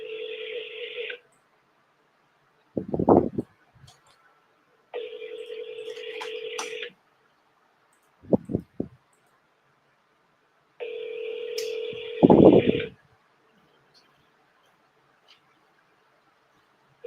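A phone call rings out with a steady two-tone ringback signal, three evenly spaced rings about two seconds each, with short bursts of talking in the silent gaps between them.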